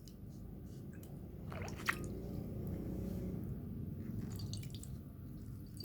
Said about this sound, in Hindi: इसको अच्छे से निचोड़ लीजिए ताकि इसका पानी निकल जाए